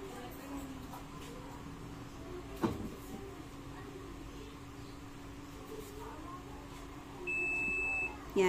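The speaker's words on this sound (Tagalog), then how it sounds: "tapos na siya, nag-beep na siya, ibig sabihin tapos na yung cycle" Fujidenzo JWA8500VT washing machine signals the end of its cycle with one steady electronic beep lasting about a second, heard near the end over a quiet indoor hum, after a brief knock.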